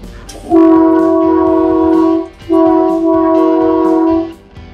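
Two long, loud blasts of the Skunk Train's air horn in California's redwoods, steady and sustained with a brief gap between them, up close with no talking.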